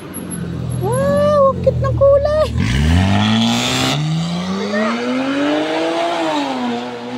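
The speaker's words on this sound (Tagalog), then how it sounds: "Tingnan mo yung tunog ng kotse." A car engine revs up loudly close by on a neighborhood street after a typhoon, its pitch climbing and wavering for several seconds, while excited voices exclaim over it early on.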